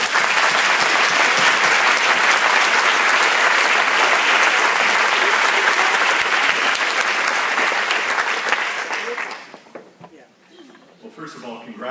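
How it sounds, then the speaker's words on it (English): An audience at an awards event applauds in a loud, sustained burst of clapping that fills most of the moment before tapering off, leaving scattered claps and low room noise. "Let's give them a round of applause."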